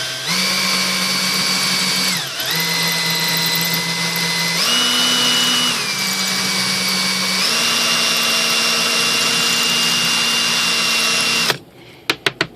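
An electric brushless motor for an ASH26 composite sailplane runs on a bench under ESC throttle. It gives a steady, loud whine that steps up and down in pitch several times, then cuts off abruptly, followed by a few sharp clicks.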